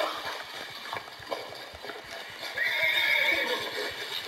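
A horse in the Red Dead Redemption 2 video game clip-clops steadily on the ground, then lets out a loud neigh near the end, heard alone without talk.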